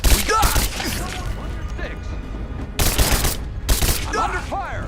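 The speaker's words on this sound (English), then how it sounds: "I'm under fire!" Gunfire in the Rise of the Tomb Raider video game, sharp loud bursts of shots in two clusters amid rattling mechanical clatter, with brief voices in between.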